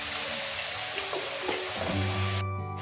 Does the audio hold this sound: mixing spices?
yes